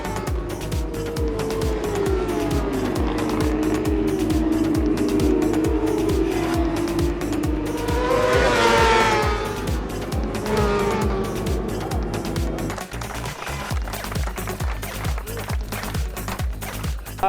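A Tyco Suzuki superbike surges out of Druids during a British Superbike round, its engine screaming hard and steady with a rising and falling pitch as it accelerates, loud and close throughout with no talking.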